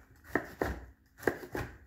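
A knife roughly chops a halved cooked eggplant on a board, four soft close thuds in two quick pairs with quiet gaps.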